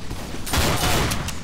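Dense burst of gunfire from a Team Fortress 2 match, several rapid shots cracking close together and fairly loud over game ambience, with no talk.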